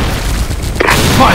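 Grenade explosion in a first-person shooter team deathmatch, a short loud boom bursting in sharply after a brief lull, followed by a rushing rumble.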